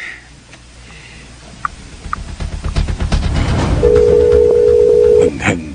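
A cellphone call being placed in a radio drama: a brief beep, rising clatter of footsteps or movement, then a steady electronic ringback tone sounding clearly for over a second before cutting off.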